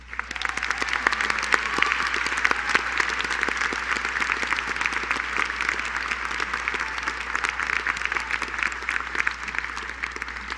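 Sustained applause from a large audience at a college convocation ceremony honouring a man named John, steady dense clapping that carries on evenly for the full stretch with no speech over it.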